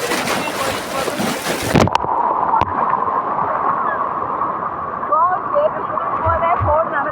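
Sea waves wash and splash continuously along the shore at the Tiruchendur temple beach, a steady rushing surge heard close by with people talking over it.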